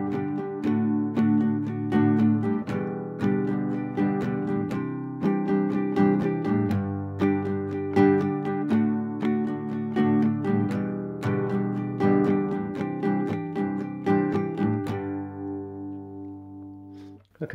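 Acoustic guitar strummed in a steady rhythm through a chord progression, bright and close, ringing out at the end.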